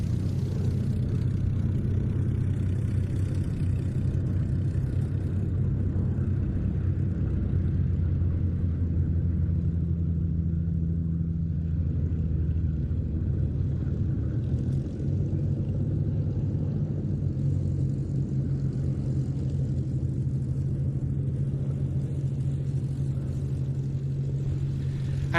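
A P-47 Thunderbolt flies at an airshow, its piston engine giving a steady, heavy low rumble that holds for the whole stretch with a slight swell in the middle and no talk over it.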